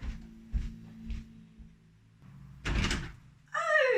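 A front door being opened: a few soft thumps and handling knocks, then a louder rattling scrape of the door moving, followed by a brief squeaky creak at the end.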